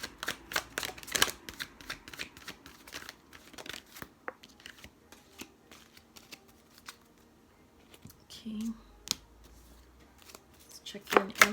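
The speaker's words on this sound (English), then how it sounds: "These cards are so big and they're kind of a little bit awkward to shuffle sometimes." Large oversized oracle cards being shuffled by hand, giving quiet, irregular flicks and riffling bursts with soft rustling between them and a few sharper slaps near the end.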